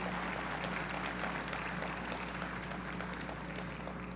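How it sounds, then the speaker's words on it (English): A faint, steady wash of applause from a crowd runs throughout at an even level, distant and low in volume. "I think he deserves another round of applause"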